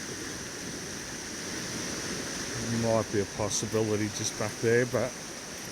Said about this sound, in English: the water's just flowing way too fast